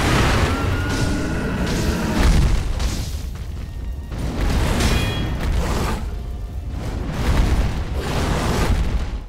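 The firecracker prosthetic tool goes off repeatedly in Sekiro: Shadows Die Twice during the fight against the burning bull boss. Loud, dense cracking bursts and booms come in waves over rumbling game sound, with no voices.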